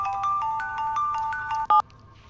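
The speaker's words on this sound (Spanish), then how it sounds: "Está sonando tu teléfono." A mobile phone rings with a repeating two-tone electronic melody, clear and fairly close, then cuts off abruptly after a short burst.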